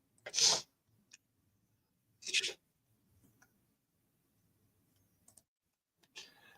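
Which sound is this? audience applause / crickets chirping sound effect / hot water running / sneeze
sneeze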